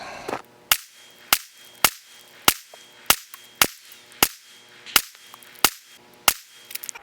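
Eleven sharp suppressed MP5 submachine gun shots are fired one at a time at a range target, evenly spaced with short pauses between them.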